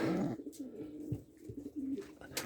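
Soft, low coos of racing pigeons repeat in short throaty phrases, close by in a loft, with light rustling and no talking.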